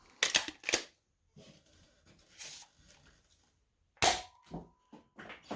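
Nerf rocket pistol firing foam rockets through a chronograph, giving sharp quick pops and snaps with quiet gaps and faint handling noises between shots.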